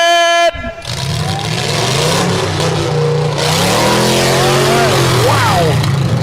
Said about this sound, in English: Those first 6 cars, fire them up.